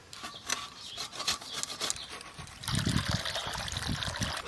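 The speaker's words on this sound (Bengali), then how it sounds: "শাক ধোয়া হয়ে গেল।" Green leafy shak being washed in water for a Santali-style prawn and parwal curry: leaves rub and squelch by hand with trickling splashes, growing fuller and wetter in the second half, close and without talk.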